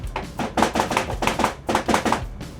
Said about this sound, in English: Now we're going to chop the garlic.